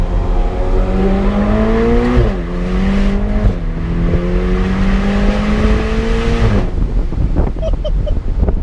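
A Ferrari Portofino driving on the road, its engine and exhaust climbing in pitch through several gears with quick shift breaks, loud and close over wind noise, then easing off near the end.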